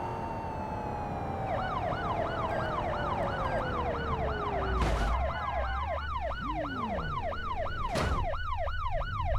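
Police car siren in the BeamMP driving game, a loud rapid wailing yelp that repeats steadily throughout, over a constant engine drone, broken by two short noisy bursts.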